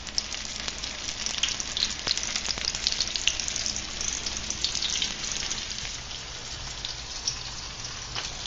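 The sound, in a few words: battered shrimp frying in oil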